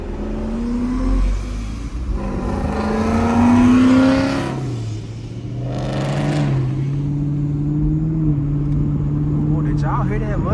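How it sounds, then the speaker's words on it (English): A Ford Mustang engine in late-night street traffic gives a deep, rising rev with a falling pitch sweep, loud and near. Car whir and passing traffic sit around it. "Y'all hear that Mustang?"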